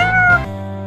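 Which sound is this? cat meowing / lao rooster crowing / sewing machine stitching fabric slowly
cat meowing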